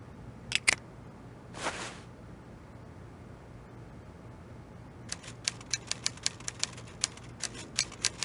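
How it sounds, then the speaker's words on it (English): Typewriter typing behind a locked door in an Agatha Christie mystery video game, a few isolated keystrokes and a brief carriage sound, then a steady run of crisp, evenly spaced key strikes over a low background hum. "he seems to be typing up quite a storm"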